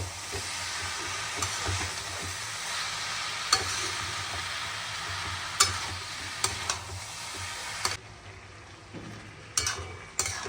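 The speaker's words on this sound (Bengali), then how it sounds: "এই মোচাটা মশলা দিয়ে সবটাই কষিয়ে নিলাম" Banana flower and lentils frying with spices in a pan, a steady close sizzle broken by repeated stirring scrapes and clacks of the spoon against the pan.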